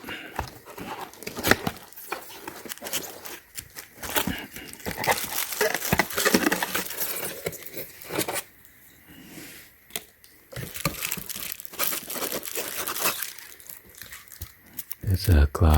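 Close, crisp crinkling and tearing of gift packaging while a tea room teapot with a glass lid is unboxed, with rustles, crunches and short pauses throughout. A person speaks softly at times.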